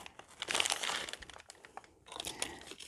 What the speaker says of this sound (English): let's take the paper out